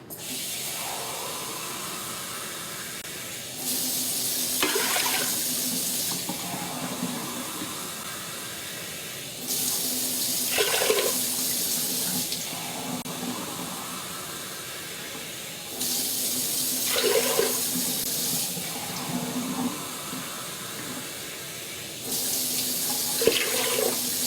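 Water pours from a tap into a pot in several bursts, hissing and splashing, with short pauses between each fill.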